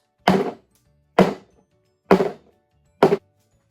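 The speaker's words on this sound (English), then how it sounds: "now I'm going to shake it and bang it to get the air bubbles out" Four loud, hollow thunks, evenly spaced about a second apart, as a cake pan filled with lemon pound cake batter is rapped against a countertop, with silence between hits.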